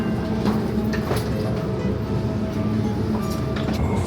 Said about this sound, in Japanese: 出発しました。